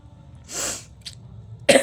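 A single sharp sneeze burst from someone with a cold, followed by a short breathy sound and another abrupt explosive burst at the end.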